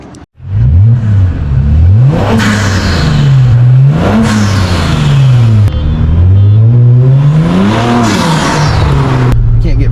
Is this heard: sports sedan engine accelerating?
yes